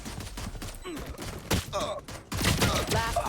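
Gunfire in a competitive Valorant pistol round: a single sharp shot among busy game effects and shifting noise bursts, with a commentator's voice talking over it throughout.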